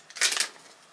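ESD anti-static bag handled by hand, giving one short burst of crisp plastic crinkling that fades quickly, close and fairly quiet with no talk.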